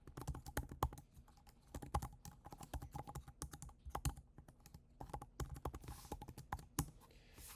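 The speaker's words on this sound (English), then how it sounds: "So in here, I'm going to type in my ID.me account information." Rapid typing on a computer keyboard while entering account login details, a close, steady patter of key clicks with brief pauses and no speech.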